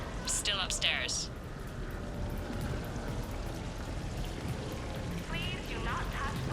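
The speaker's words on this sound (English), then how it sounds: "Please do not touch the waterfall." Waterfall splashing at a party in Mass Effect 3, a steady close rush of falling water like pouring rain, with brief game voices near the start and end.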